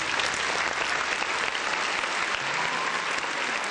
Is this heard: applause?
yes